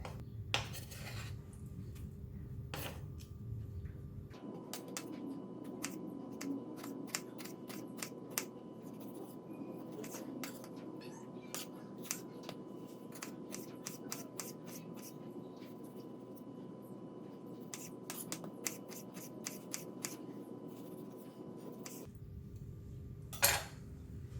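Vegetables for a spicy corn salad are cut with a knife, giving light, repeated tapping and scraping strokes on a board over a low steady hum, close and fairly quiet.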